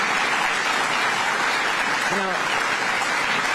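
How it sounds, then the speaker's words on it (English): Applause for public sector union members at a live announcement about paid parental leave, a dense steady wash of clapping from an audience, with a brief voice breaking through near the end. "Let's give another round of applause to all of our public sector union members."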